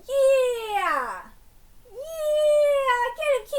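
A cat meows twice, two long, loud drawn-out cries close by, the first falling in pitch and the second steadier, separated by a brief pause.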